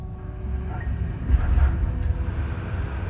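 Sleeper train running on rails north of the Arctic Circle in Sweden, a steady close rumble of wheels and carriage with low droning and faint rattles throughout, swelling slightly midway.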